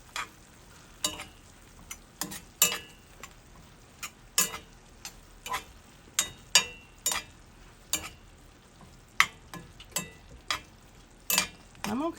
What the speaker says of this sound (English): you can see our beans are cooking down